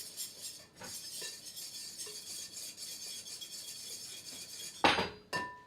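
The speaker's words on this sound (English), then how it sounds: "give it a whisk" A whisk stirs a roasted, cinnamon-colored mixture in a bowl with soft, continuous scraping and clinking, ending in two louder metallic clinks.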